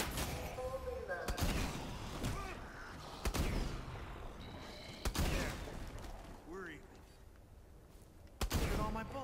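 Rocket launcher fire against zombies in Advanced Warfare Exo Zombies, heavy booms repeating every second or two over a dense stream of game explosions and effects, with a player talking throughout.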